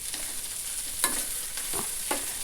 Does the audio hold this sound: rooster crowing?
no